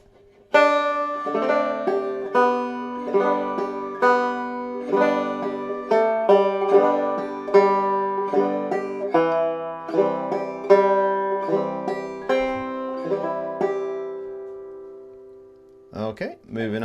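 Clawhammer banjo playing She'll Be Comin Round the Mountain, a steady run of bright plucked and brushed notes with chords, close and alone for about fifteen seconds before ringing out, then a voice starts.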